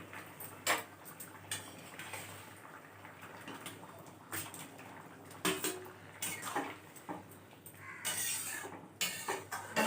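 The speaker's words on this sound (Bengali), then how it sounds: "ঢাকনাটা উঠালাম, জলটা বলক উঠে গেছে, ঝোলটা।" A pot of paneer curry broth at a boil has its lid lifted, making a series of metallic clinks and rattles over a quiet simmering hiss, close by and otherwise wordless.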